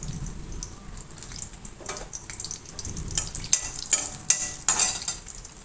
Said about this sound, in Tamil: முந்திரி வறுத்து எடுத்துக்கலாம்.